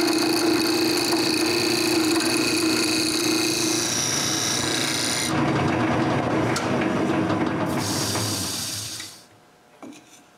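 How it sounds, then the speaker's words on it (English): A wood lathe turns a tenon on a round blank for a dog treat bowl. The turning makes a loud, continuous whir with a scraping hiss, then the lathe spins down and fades to near silence at the end. "Put it on the lathe and turn a tenon to the size of the cylinder."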